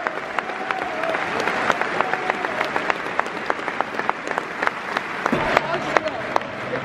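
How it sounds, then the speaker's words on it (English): Crowd applause at a Norwich versus Middlesbrough football match, sustained rippling clapping across a big stadium, with crowd murmur and voices mixed in and a low rumble near the end. "52nd minute applause for Michelle Dack"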